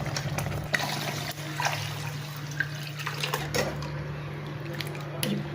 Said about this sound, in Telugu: ఇప్పుడు తగినంత వాటర్ పోసుకుందాము